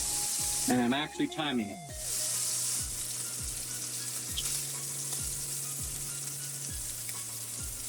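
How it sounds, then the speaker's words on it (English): A sirloin tip roast beef, sous vide for 24 hours, searing in a hot pan: a steady close sizzle with brief louder bursts early on, while a person talks over it. "So we're going to sear each side for 1 minute."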